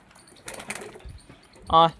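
Pigeons being fed mustard seed and wheat give soft coos amid light rustling, ending in a short loud burst of flapping or calling close by, with a person's voice faintly in the background.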